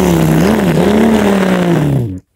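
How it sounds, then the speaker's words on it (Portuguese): Race car engines drone loudly and close, the pitch rising and wavering as they rev together, before cutting off abruptly to silence. "Pilotos, liguem seus motores."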